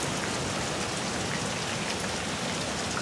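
Steady rain falls in a dense, even hiss, soft and continuous with no other sounds.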